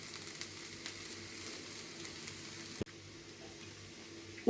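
Colocasia stem thoran frying in coconut oil gives a faint, steady sizzle under soft intermittent stirring, close by but quiet, with one sharp knock near the end.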